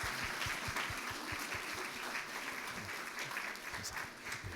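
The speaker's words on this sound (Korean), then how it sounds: "우리 크게 박수해 주겠습니다." A church congregation applauds during an Easter service after an infant baptism, with steady, fairly faint clapping from many hands.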